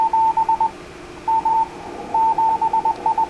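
A digital-mode radio signal received on HF through a webSDR, heard as loud, clear bursts of steady tones switching on and off in rapid keyed pulses over faint background hiss.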